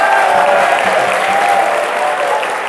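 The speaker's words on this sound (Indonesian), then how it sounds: "Tepuk tangan buat jurusan TBSM." Loud, continuous applause from a crowd of vocational school students fills a hall for the TBSM department, a dense clapping wash that holds steady and eases slightly toward the end.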